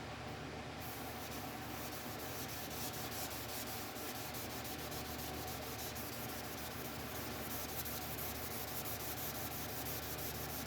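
Continuous rhythmic wet sanding of a guitar body, sandpaper rubbing and scraping over the wood, steady and close, with no talking.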